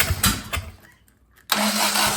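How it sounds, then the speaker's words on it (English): A small engine cranks with a choppy, pulsing churn, falls silent for a moment, then cranks again steadily, close and loud, during an attempt to start it. "Okay, I'm gonna turn on the coil again and see if we can get it to go."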